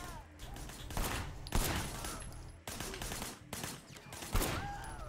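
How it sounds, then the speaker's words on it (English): Rapid gunfire fired from a moving car in the video game Sleeping Dogs, several bursts of shots crackling over engine and street noise, with loud peaks and brief pauses between volleys. "firing shots from the passenger window."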